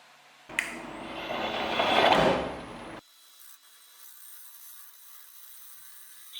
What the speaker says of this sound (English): Starting with the 5/8 bowl gouge